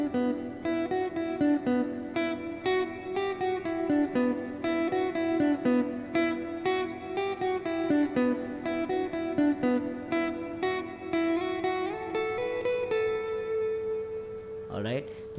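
Guitar playing part of an instrumental piece, a continuous run of plucked melodic notes over sustained ringing strings, moderately quiet and close, ending with a brief slide or scrape.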